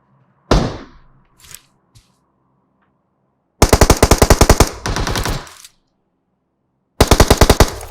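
Gunfire in PUBG Mobile on the Erangel map: a single loud shot with a fading tail, then two long rapid automatic bursts and a final burst, close and loud, separated by silence.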